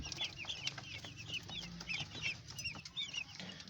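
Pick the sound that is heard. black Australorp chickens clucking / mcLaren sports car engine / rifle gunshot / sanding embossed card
black Australorp chickens clucking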